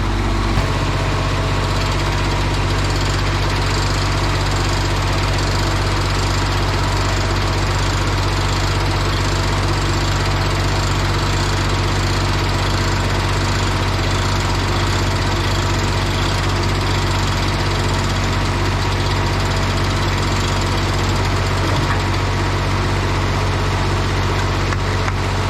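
An engine on a machine bought at auction in inoperable condition runs loud and steady throughout, with a constant idling drone that holds without pauses and has no voices over it.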